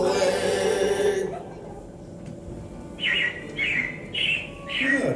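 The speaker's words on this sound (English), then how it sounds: "it looks like the Robins are getting ready to celebrate Valentine's Day today" Recorded robin chirps play inside a Magic Kingdom theme park attraction, a string of four short, clear bird calls following a stretch of music and voices.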